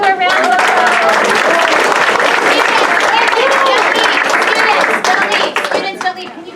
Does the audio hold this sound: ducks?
no